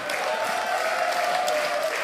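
Concert crowd at the tour-final show of a band in Solingen keeps up an even wash of clapping, steady and dense, with a faint tonal hum underneath and no clear talk.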